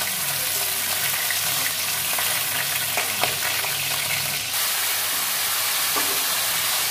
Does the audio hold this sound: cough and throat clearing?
no